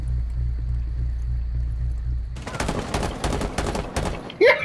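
Gunfire in Rainbow Six Siege: a low steady hum gives way to a rapid burst of loud, sharp shots fired in quick succession, with brief gaming chatter in the background.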